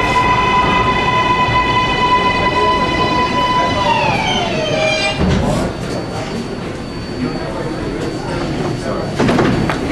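A New York City subway train runs loud and close, with a high whining motor tone that drops in pitch as it slows, followed by rumbling rail noise and brief talking.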